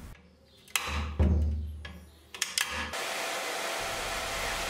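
A hair dryer blows hot air onto a brittle plastic bowl to soften it before drilling, a steady close airy roar that settles into a continuous broadband hiss after earlier clunks and handling noises.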